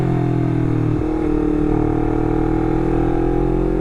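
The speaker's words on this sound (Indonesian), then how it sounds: "Soalnya ini knalpotnya adem banget," A Honda CBR250RR motorcycle fitted with a WRX GP3 exhaust idles close by, giving a steady, even low rumble that runs unbroken with only a slight shift partway through. No one speaks.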